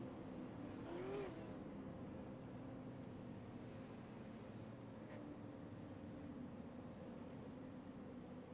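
iRacing race cars at the Bullring, a steady engine drone under a pace-car lap, with the field running double file at a distance, one brief rising rev standing out early on.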